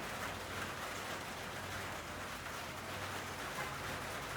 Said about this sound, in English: It's raining at the Nature Yoga Studio.